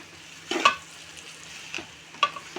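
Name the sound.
stirring chili powder into boti curry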